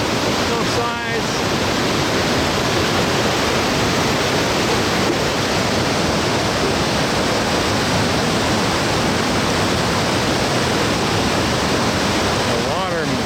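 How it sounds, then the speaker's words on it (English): Snowmelt water rushing down a mountain creek near a bridge on the Colchuck Lake trail by Leavenworth, Washington, a loud, dense, continuous roar filling the whole stretch. "The water melts from the snow and comes rushing down the creek."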